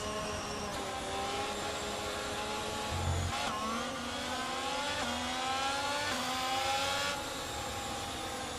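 Formula 1 race cars in the F1 22 video game drive slowly toward the starting grid, a steady engine whine with rising and shifting pitch from several cars, continuous and fairly close.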